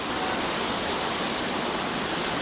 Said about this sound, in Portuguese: A gente vê a queda d'água aqui de cima